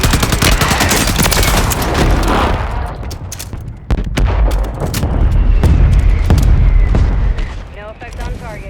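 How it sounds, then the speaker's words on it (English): In the video game Warzone 3, a mortar strike rains down as a dense barrage of loud, overlapping booms and blasts that rumble continuously for several seconds, with game radio voices talking over the bombardment. "Mortar strike inbound now."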